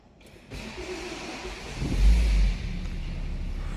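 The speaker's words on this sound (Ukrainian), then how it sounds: "Також заведу зараз його для вас, послухайте, як він робить." A roughly 300-euro used car's engine cranks and catches, revving briefly before settling into a steady idle rumble, close by, on a car lot in Germany.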